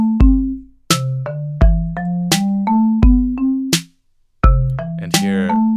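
A drum beat built in the browser tool Song Maker, a loop of sharp electronic percussive hits with ringing tonal decays in a steady rhythm, briefly pausing before restarting, loud and alone.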